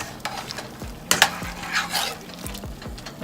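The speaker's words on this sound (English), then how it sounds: "I'm going to give them a nice good stir." Red beans in a pot being stirred with a spoon, several scraping sweeps and soft knocks against the pot over a low bubbling simmer, close and without talk.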